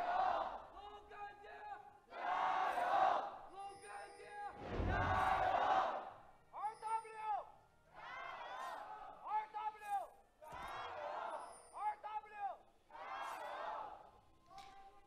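A crowd cheers in waves at an LPL Spring Split esports match in Hangzhou between LGD Gaming and Rogue Warriors, with loud roaring bursts rising and falling while commentators' voices talk over and between them.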